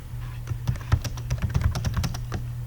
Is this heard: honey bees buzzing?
no